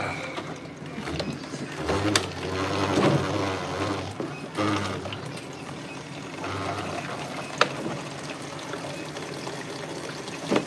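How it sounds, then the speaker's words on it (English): Spring water pours from a container into a water bottle in a steady, close stream lasting several seconds, with a few clicks and knocks from handling along the way; no speech. "So I'm filling up her water bottle with spring water."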